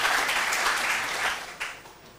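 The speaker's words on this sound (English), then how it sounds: "A round of applause, please." A short burst of clapping from the audience at a school quiz competition, loud at first and then tapering off near the end.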